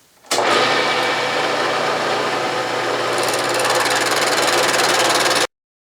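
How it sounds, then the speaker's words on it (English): A 3/4 inch carbide end mill cuts across a cast-iron drill press vise in one steady, loud, close rasping pass with a constant machine hum beneath, then stops abruptly. "using the 3/4 carbide mill, just run right across there"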